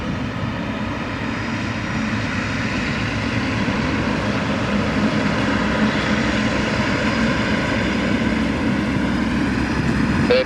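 An Emirates Boeing 777-300ER jet takes off at Lisbon Airport, a loud continuous engine roar holding steady throughout with a broad rushing hiss and no voices.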